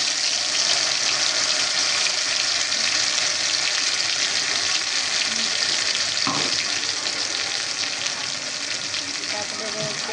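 Chilies dropped into hot oil fry with a loud, continuous sizzle and crackle that hold steady throughout, broken by a brief clatter partway through.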